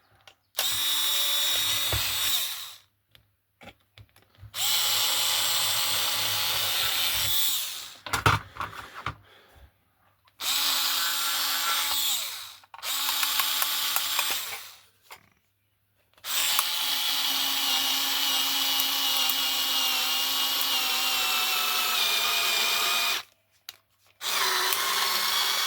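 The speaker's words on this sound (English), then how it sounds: "So we want to just ream out the holes" A power drill reams out holes in a 7/8th scale Corris coach model chassis, running in several loud, steady bursts of a few seconds each, separated by short pauses.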